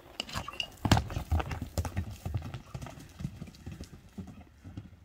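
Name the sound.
horse galloping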